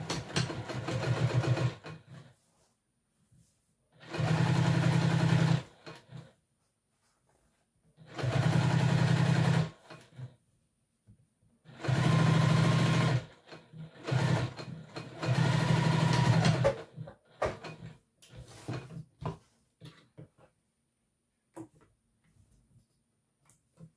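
A sewing machine top stitches a T-shirt garment at a long stitch length, running in about five distinct bursts of rapid whirring separated by quiet pauses, close and clear.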